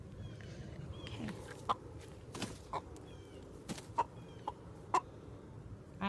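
Chickens cluck and squawk in short, scattered bursts nearby, with sharp pecking taps against a quiet background.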